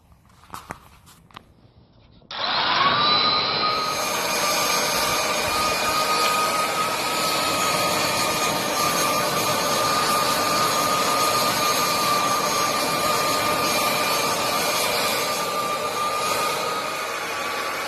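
A lit forge roars while a hand-forged knife anneals. Near silence gives way after about two seconds to a loud, steady blower-driven rush with a faint whine that holds evenly to the end.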